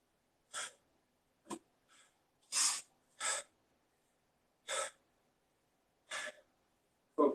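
Heavy, ragged breathing after a set of push-ups in a HIIT workout: about seven separate puffing exhales and gasps, spaced irregularly over several seconds, close and fairly quiet with silence between them.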